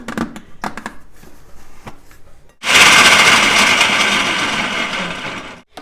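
A blender chopping onion and green chillies starts up abruptly after a few quiet clicks and knocks, then whirs loudly and steadily, chopping for several seconds before cutting off.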